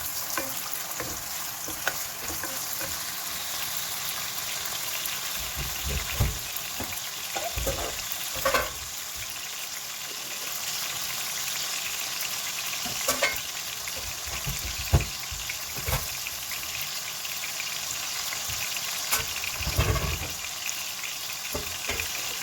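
Roma cherry tomatoes frying in a pan, a continuous close hiss and crackle of sizzling with intermittent louder pops and stirring scrapes, steady throughout without talk.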